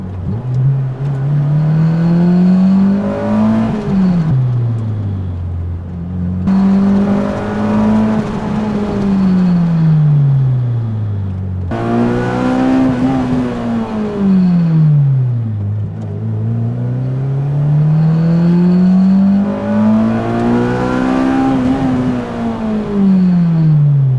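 A Honda Civic Type R on a race track, its engine loudly revving up through the gears in long rising sweeps, each cut off by a sudden drop as it brakes hard, repeating four times over steady close engine drone.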